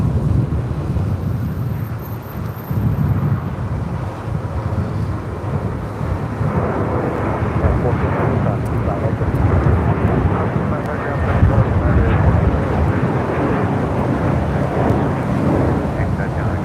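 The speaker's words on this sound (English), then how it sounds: "taking off to Fort Lauderdale. It's flight 1700 on an A321" Airbus A321 jet on its takeoff roll at LAX, a loud, steady rumbling roar that holds throughout, heard from a distance with voices talking over it.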